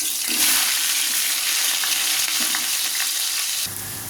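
Onions and green chillies fry in oil for biryani with a dense, close, continuous sizzle and occasional soft stirring scrapes. The hiss drops slightly just before the end, with no voices.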